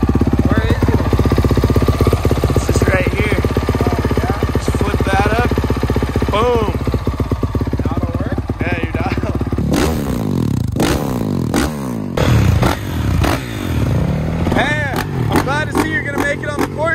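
Engine of a 110 dirt bike runs lean, idling with a steady rapid chug, then revs up and down in sharp bursts while people talk over it outdoors on an urban riding spot.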